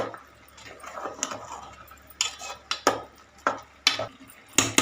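Coconut rice is stirred in a pan after salt goes in, and a spoon scrapes and taps against the metal in repeated strokes. A soft sizzle runs underneath the close, moderately loud clinks.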